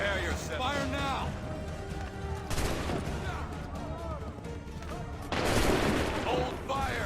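Musket volleys in the Assassin's Creed III video game, several sharp crackling bursts of massed gunfire with rumbling tails, loud and close, amid shouted voices and battlefield noise.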